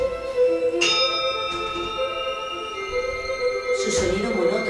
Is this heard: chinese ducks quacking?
no